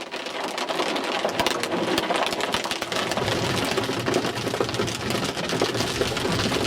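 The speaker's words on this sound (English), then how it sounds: "There's a lot of hail going off right now, and it sounds tremendous right now." Dense, steady pounding of hailstones in Tornado Alley striking surfaces, a continuous loud clatter with no voices.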